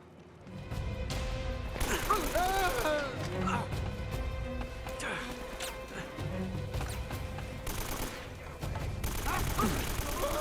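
Combat gunfire in the action game Uncharted, repeated bursts of shots and impacts mixed with game music, under a player talking.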